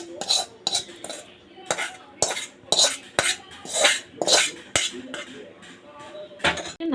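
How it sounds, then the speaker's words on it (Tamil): A spoon scrapes and clinks against a metal bowl as a sautéed onion mixture goes into kuzhipaniyaram batter and gets stirred, with repeated sharp taps and knocks at an uneven rhythm, close and fairly loud. "நம்ம வதக்குனதை இப்போ மாவில் கொட்டிடலாம்."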